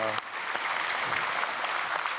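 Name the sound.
church congregation applauding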